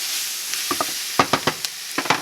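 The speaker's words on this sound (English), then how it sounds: "Couple of whirls with the spoon here." A spoon swirled through collard greens seasoned with black pepper in a pot, giving a few quick scraping and clinking strokes over a faint sizzle, close and brief.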